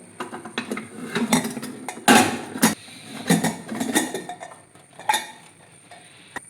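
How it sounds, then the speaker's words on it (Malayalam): A pressure cooker of cooked rice being opened in a home kitchen, a scattered run of metallic clanks and clinks of lid and pot, several sharp knocks spaced irregularly, close and with no talk. "ഇനി നമുക്ക് കുക്കറിലെ ചോറൊന്ന് തുറന്ന് നോക്കാവേ."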